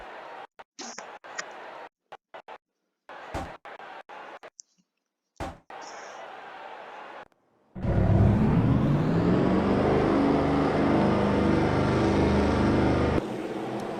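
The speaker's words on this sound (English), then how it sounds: "Drivers, start your engines!" Race car engines starting at Richmond Raceway, a short track, in a racing video game: after scattered light clicks and near silence, a loud sustained roar suddenly swells and holds steady.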